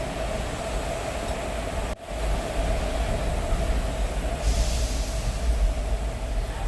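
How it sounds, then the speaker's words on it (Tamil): Interior of a passenger train running from Chennai toward Nagapattinam, a steady rumbling roar with wheel noise and hiss, briefly interrupted then continuing loud and constant. "தாம்பரத்துலேருந்து 9:30க்கு ட்ரெயின் கிளம்பிடுச்சுங்க."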